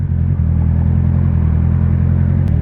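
A Honda CBR650R motorcycle engine drones steadily at close range with a low, even rumble, as if heard from the seat while riding.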